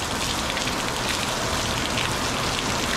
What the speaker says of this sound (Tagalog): Ngayon nabuhos talaga doon sa malakas na ulan oh.